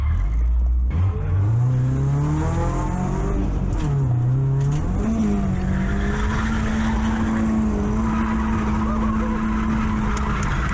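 A car drifting at a drift event with its engine revving hard and steady, overlaid with continuous tire squeal and skidding noise, loud and close throughout.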